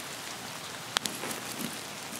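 Rain falls steadily in Escape From Tarkov, a constant soft patter across the scene with a couple of sharp drop ticks and no talk.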